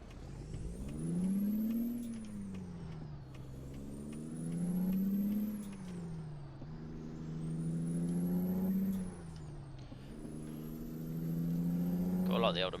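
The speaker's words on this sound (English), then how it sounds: "Got a lot of the old American trucks as well. They sound a lot better." A heavy old American truck engine in the video game American Truck Simulator revs up and shifts through gears repeatedly, its deep rumble rising and falling in cycles, loud and close with no talking.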